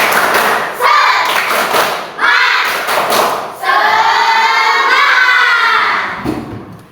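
Rhythmic group clapping in unison in a classroom, several bursts of quick patterned claps with short pauses, loud and close, voices of children mixed in.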